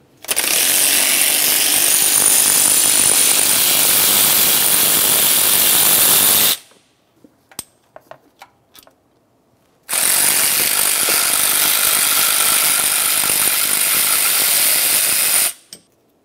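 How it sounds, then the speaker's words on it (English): A ratchet wrench loosening 13 mm thermostat housing bolts on a Dodge Ram 2500, two long, loud, continuous bursts of rapid clicking separated by a few seconds of near silence with faint knocks. "To remove the housing, we'll be removing two 13 millimeter headed mounting bolts."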